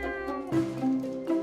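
Repeated cartoonish cat meows in the video game The Cat Machine, bright and tonal, several in quick succession with a steady synthetic backing tone underneath.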